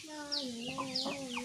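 Chickens in a coop of about 25 birds cluck in short, soft bursts, a few overlapping calls close by over a quiet background.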